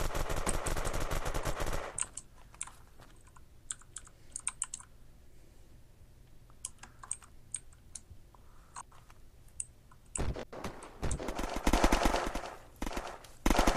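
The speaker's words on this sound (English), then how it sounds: "there are lots of shots going down" Video-game gunfire in Unturned arena mode, with bursts of rapid automatic shots at the start and again near the end, and sparse clicks and distant single shots in a quieter middle stretch.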